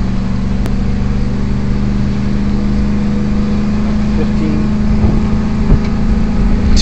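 2011 Ford F350 pickup with a 6.2-liter V8 pulling uphill at 75% throttle, a loud, steady low engine drone heard from inside the cab, with faint speech beneath it.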